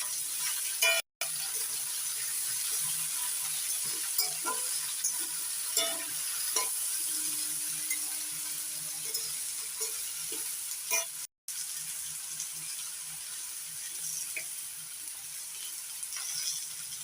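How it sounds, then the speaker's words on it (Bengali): Chopped ivy gourd pieces fry in a pan with a continuous hiss, broken by occasional stirring scrapes and light taps. "কুচি কুচিগুলো একটু ভেজে নেবো"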